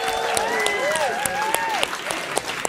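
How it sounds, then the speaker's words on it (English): Audience applause on a dating game show stage, a crowd clapping steadily with sharp individual claps standing out, while a tonal whistle or cheer-like voice sweeps over it. "Give them all a round of applause."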